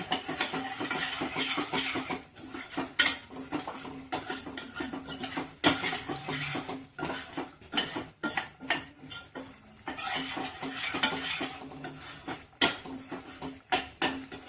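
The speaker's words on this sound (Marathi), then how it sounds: "ते टाकल्यावर आपल्याला फुल आचेवर परतायचे आहे, दही फाटू नये म्हणून." A spoon stirs curd gravy for besan gatte curry, sautéed in a pan over full flame, with repeated close scrapes and clinks against the pan over a low sizzle and no voices.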